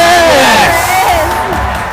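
A sports crowd roars loudly and continuously throughout, with whoops rising from the mass of noise while a commentator's voice carries excitedly over the top.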